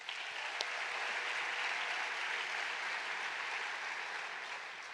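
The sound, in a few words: applause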